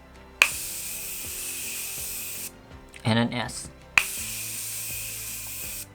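Two long hissing sprays from a makeup remover spray bottle, each a couple of seconds, with a short burst of speech in the pause between them.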